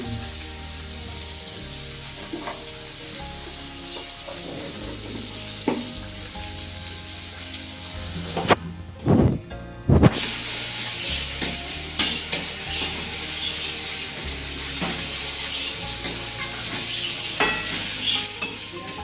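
Chopped onions with a pinch of salt fry in a pan for a chicken curry, giving a constant close sizzle broken by repeated scraping stirs, with a brief louder flurry of clatter midway.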